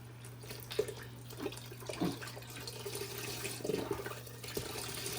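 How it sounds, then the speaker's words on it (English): Broth poured into a pot while making chicken soup with dumplings, a soft, continuous liquid splashing and trickling with faint clinks, fairly quiet over a steady kitchen hum. "I have to add more broth because for the next step"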